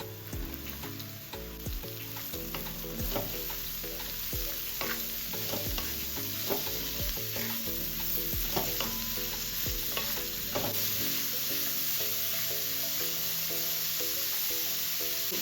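Mushrooms sautéing with onions in a pan, a continuous hiss of frying broken by repeated scraping strokes of a spoon stirring, close and steady with no talking.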